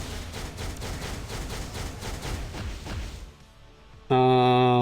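Dense gunfire and blasts from a missile-firing armored hero skill in the Marvel Future Fight mobile game, building to a big explosion, then briefly quieter before a loud, steady synthetic tone cuts in.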